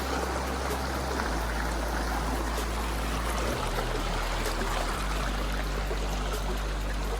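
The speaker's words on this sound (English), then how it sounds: "The water is" Steady rushing water fills the scene, a constant broadband roar of a creek flowing hard, close by with no other sounds.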